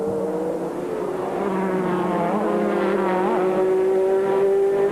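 A BMW M3 GTR race car rolls out of pit lane at Sebring under the speed limit, its engine droning steadily at low revs with a rising tone and the noise of other cars around it, close and continuous.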